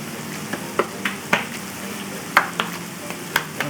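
Beef pieces frying in a pan give a soft, continuous sizzle with scattered sharp crackles and pops, close by and without any talking.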